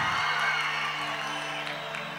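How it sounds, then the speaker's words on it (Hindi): Concert crowd at the Minjar Mela 2024 cheering, whooping and clapping in a dense, loud wash of sound for a couple of seconds, fading slightly near the end. "कम ऑन, एक बार जोरदार तालियां हो जाए"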